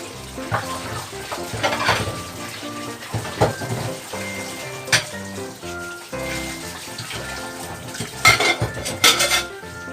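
Dishes, pots and cutlery being washed at a sink, with running tap water under repeated loud clinks, clatters and scrapes of metal and crockery close by.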